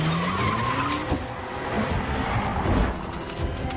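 A car in a Hindi-dubbed action movie is driven fast, tires squealing and skidding in long screeching sweeps over a loud roaring engine and road rumble, close and continuous.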